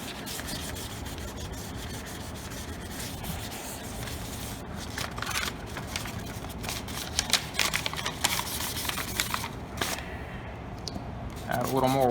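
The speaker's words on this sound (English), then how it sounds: "You're just letting the sandpaper do the work." A car headlight lens being wet sanded by hand with sandpaper, steady close rubbing strokes in a repeating rhythm, with a voice talking over them.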